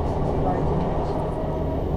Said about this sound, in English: It's our first train ride in the UK.